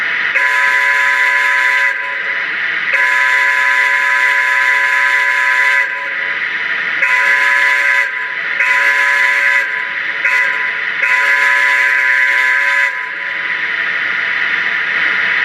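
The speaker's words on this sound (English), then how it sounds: "let's check out the horn." Horn on a Lionel corporate tinplate O-gauge #256 electric toy locomotive sounds in six close, loud blasts of varied length, some long and one very short, over a steady electronic hum with no talk.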